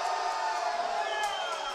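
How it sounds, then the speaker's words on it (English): Lindenwood men's soccer players cheer and shout during a match against Quincy University, a dense, steady burst of overlapping voices and whoops heard at moderate distance. "And the Lindenwood players start to cheer."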